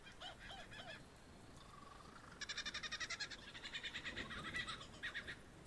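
A lyrebird imitates a kookaburra, producing a rhythmic, rapidly pulsing laughing cackle that swells and repeats for several seconds. Softer hooting notes come first, all fairly faint against a hissy background.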